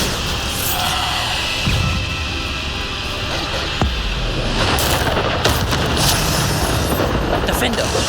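Bombarda explosion spell in the Hogwarts Legacy game: deep booming blasts and rumbling impacts within dense, continuous loud combat noise, with spell incantations shouted over it.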